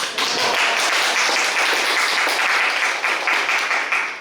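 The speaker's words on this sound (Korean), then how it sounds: "이때 박수 한번 치는 거 아니에요?" An audience claps steadily in a dense, sustained round of applause at a concert-style public talk event, holding strong, then thinning slightly toward the end.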